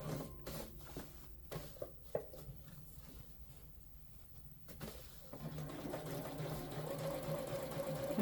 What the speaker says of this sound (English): And again, I'm understitching the pockets.